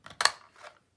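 A paper punch biting into a book page, a sharp close click-crunch followed by a softer second snap, brief and isolated in a quiet room.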